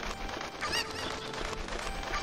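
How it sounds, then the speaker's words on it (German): A chicken clucks briefly in a hacked Ocarina of Time Zelda video game, a short nasal call rising over a dense, steady wash of game music and ambience. "So, da haben wir einen Huhn, da haben wir einen Huhn."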